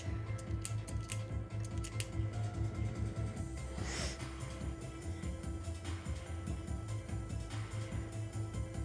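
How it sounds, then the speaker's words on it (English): Small, crisp clicks of a pencil cap being snapped on and off, several brief taps, most of them early, over a low steady background hum. "I sometimes play with the cap of my pencil."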